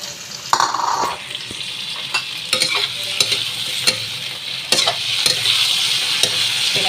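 Shrimp mixed and stir-fried in a pan, with a bright continuous sizzle and irregular scraping, clanking spatula strokes, close up and with no talking.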